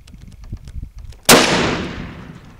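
A single sharp, loud rifle shot rings out during a January deer hunt, cracking close by and decaying in a long outdoor echo, preceded by low murmured voices.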